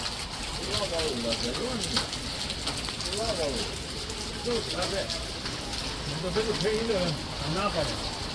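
Heavy rain pours during flooding in a seaside residential society near Dumas, with water entering shops; a steady, dense hiss of rainfall runs throughout while people talk over it.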